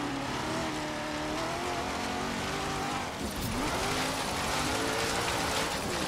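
A drift car in the video game Game of Drift, played on a Logitech G920 wheel, screams at high revs with tires squealing through a drift run, a loud continuous engine whine that dips briefly midway and then surges back.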